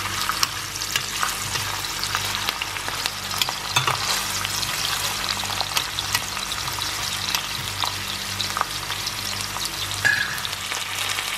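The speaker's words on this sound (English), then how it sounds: "Add your onions to the pot and stir around until it is light brown" Chopped onions fry in oil in a cooking pot for a mince curry, a steady bright sizzle with occasional stirring scrapes, close and even throughout with a faint low hum underneath.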